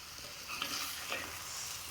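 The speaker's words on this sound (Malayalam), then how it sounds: "ഒരു മൂന്ന് നാല് മിനിറ്റൊക്കെ ഞാനിത് തേങ്ങ ഇട്ടിട്ടൊന്ന് നന്നായിട്ടൊന്ന് ഇളക്കുന്നുണ്ട്" Grated coconut stirred into an ash gourd curry in a pan makes a soft, steady frying hiss with a couple of faint spatula scrapes, quiet and without speech.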